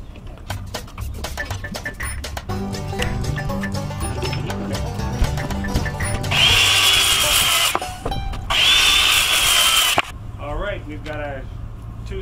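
A power saw cuts boards for a family-built garden cold frame, with two loud sustained whining cuts following a stretch of clattering and tool handling, while people talk nearby.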